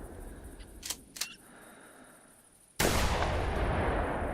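A hunting rifle fired into the ground in theHunter Classic at Settlers Creek: two faint clicks, then one loud, abrupt blast that rolls into a sustained, broad rumbling tail until the end.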